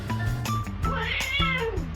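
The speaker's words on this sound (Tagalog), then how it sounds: "Mararamdaman mo talaga ang galit ng pusa sa laruan na daga na ito." An angry cat at a toy mouse gives a few loud, close, drawn-out meows, each rising and falling in pitch, with a brief pause between calls.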